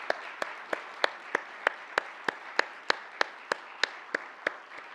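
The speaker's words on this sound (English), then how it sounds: "Let's give these folks a big round of applause for a job well done." Applause for grand prize winners at a county science and engineering fair award ceremony, sounding as a single pair of hands clapping in an even, steady rhythm, about fifteen sharp claps, close and moderately loud.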